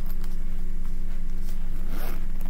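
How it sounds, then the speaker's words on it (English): A zipper on a university bag is pulled open in one continuous close rasping stroke, loud and near, with no talking. "I'm just unzipping it if you can hear that sound."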